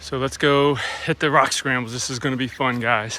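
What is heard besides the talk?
No everyday noises stand out.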